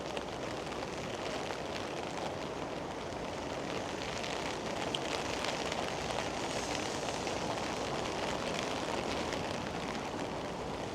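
Steady rain falls over an outdoor walk in Tokyo during cherry blossom season, a dense continuous hiss that stays loud and even throughout with no one talking.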